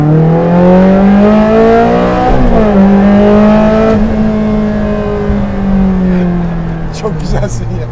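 Loud, close engine of a Ferrari Challenge Stradale pulling hard, its pitch climbing then dropping sharply at gear shifts, with a shift around the middle and a fade near the end, while people talk over it.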